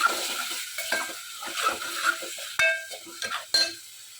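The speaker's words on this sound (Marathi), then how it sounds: "आता हे मी चांगलं तेल सुटेपर्यंत परतवून घेईल" Masala paste of onion-garlic spice, turmeric, red chilli and Kashmiri chilli frying in oil in a pan, with soft sizzling under repeated scraping strokes and a few clinks of the spoon against the pan, close by.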